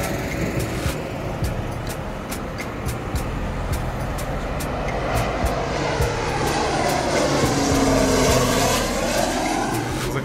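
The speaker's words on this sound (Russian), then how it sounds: "Над ней, практически над ней, летят самолеты." A jet airliner passes overhead on landing approach to Tivat airport, heard outdoors on a hike near Fort Vrmac in Montenegro as a loud, building roar with a rising and then falling whine, under steady background rumble.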